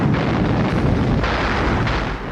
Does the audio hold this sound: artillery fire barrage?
yes